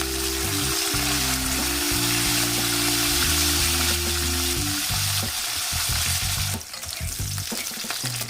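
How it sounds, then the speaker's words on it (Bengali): Sliced flat beans sizzling in hot oil in a pan, a steady loud frying hiss with occasional stirring clatter, ending with a few utensil knocks. "শিমটাও আমি একটু ভেজে নেব।"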